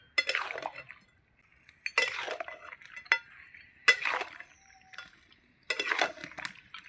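Spinach and katla fish head stirred in a full kadai, a few separate bursts of scraping and clinking utensil against the pan with quiet gaps between, close and moderately loud, no talking.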